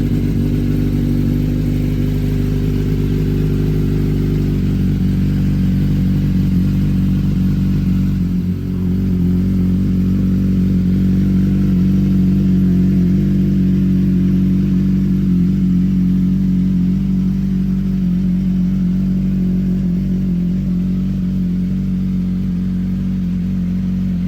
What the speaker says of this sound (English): We're gonna start the engine and get it flowing for a little bit